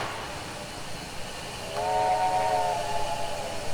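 The whistle of an MNRR T-3 4-6-0 steam locomotive in the game Trainz 2019 sounds midway, a sustained harmonic tone over a low background hiss, moderately loud and steady until the end.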